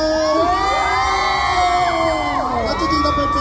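An audience at a cake-decorating talk segment of a food trade show cheers and shouts, children's high whoops and yells riding over a loud, sustained crowd roar, with no speech above it.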